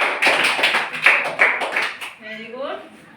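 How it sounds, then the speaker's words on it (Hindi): A group of children claps hands together in a classroom, a quick run of close, sharp claps that dies away into a short spoken phrase. "ताली बजाओ इनके लिए।"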